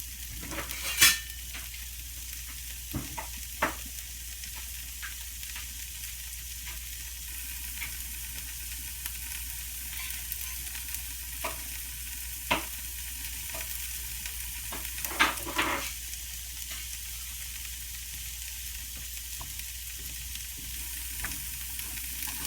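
Sweet potato and sprouts stir-fry in a pan with a steady close sizzle, and occasional scrapes and taps of a utensil stirring through them, no voices.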